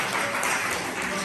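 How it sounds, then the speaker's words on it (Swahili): Church congregation clapping for the choir after mass, a brief steady wash of many hands applauding together in a reverberant hall. "Tuwapigie makofi"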